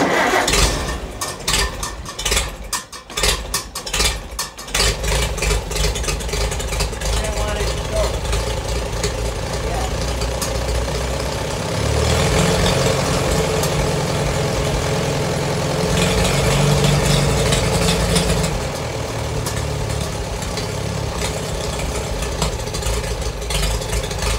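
An engine with the choke on and the transmission in neutral cranks after a throttle linkage adjustment, then catches and settles into a loud, steady idle with a rougher patch midway, while people talk over it.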